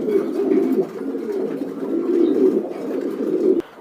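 Pedigreed racing pigeons cooing close by, a continuous low throaty warble that rolls on steadily with slight swells, no speech.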